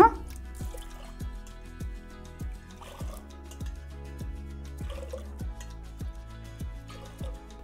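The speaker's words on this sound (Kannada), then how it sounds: "ಒಂದು 4 ಬಟ್ಲ ನೀರು ಹಾಕೊಳ್ಳೋಣ" Water poured onto moong dal in a pressure cooker while making hesaru bele payasa: a close, steady trickle with regular dripping splashes over a constant low background hum.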